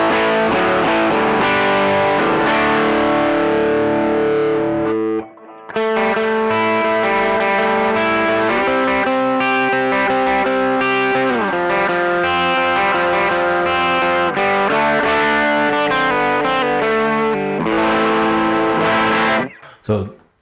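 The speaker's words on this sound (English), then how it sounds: "So that's just like the booster / overdrive section." A heavily driven electric guitar through an overdrive pedal, with a thick, crunchy tone, plays chords and riffs continuously, loud and close, with one brief break midway.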